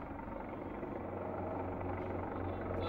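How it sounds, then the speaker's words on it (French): A French Tigre military helicopter thrums faintly in the distance, a steady low rotor throb continuing evenly throughout. "Ouais, c'est un hélicoptère Tigre."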